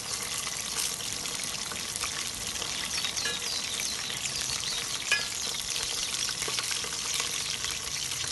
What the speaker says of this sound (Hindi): अभी थोड़ा सा हम और करेंगे इसे फ्राई, गोल्डन सा हो जाएगा